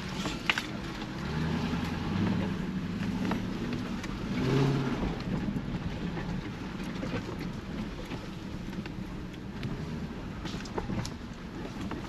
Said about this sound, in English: The Oldsmobile off-road vehicle made it again.